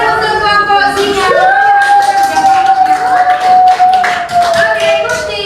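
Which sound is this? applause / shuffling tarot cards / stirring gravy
applause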